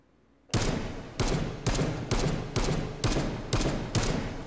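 SCAR 16 and SCAR 17 rifles firing in a VR shooting game: eight loud, evenly spaced gunshots about half a second apart, each a sharp blast with a brief decaying tail, following a short quiet lead-in.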